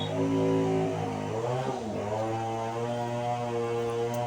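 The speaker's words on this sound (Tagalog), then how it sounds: "Ang ingay ng sinso." A chainsaw engine drones steadily at a distance while cutting wood, its pitch dipping and climbing as it revs through a cut, with no one talking.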